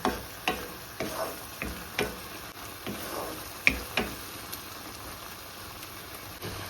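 Rice is stirred into tomatoes frying in oil, with a steady soft sizzle beneath a regular series of spoon taps and scrapes against the pan, close and fairly quiet.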